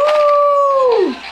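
Toy dog gives one loud, sustained electronic howl that wavers and then slides down in pitch at the end, close and alone.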